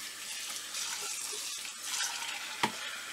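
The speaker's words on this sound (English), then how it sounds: "rinse this out, put it through a strainer. And we'll do it again." Brown rice being rinsed in a strainer under running water, a steady soft hiss of flowing water with light swishing and a brief clatter near the end, close and fairly quiet.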